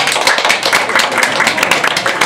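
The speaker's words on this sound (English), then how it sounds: "I think they deserve another round of applause." A room applauds the entertainment and staff at a candidate forum held at the White Horse, with loud, close, dense clapping throughout the brief burst and no speech.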